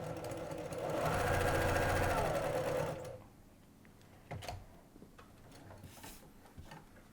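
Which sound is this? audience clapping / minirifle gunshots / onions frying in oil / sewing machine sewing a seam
sewing machine sewing a seam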